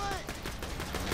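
Rapid gunfire from a weapon in Borderlands 2 during a boss fight, a quick burst of several sharp shots over about a second, loud and close amid game noise.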